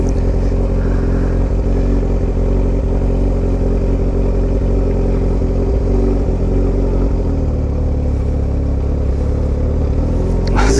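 Yamaha R1 sport motorcycle ridden on the road, a steady, loud engine drone with continuous rumble and wind, close-up and unbroken, rising slightly near the end, no talk.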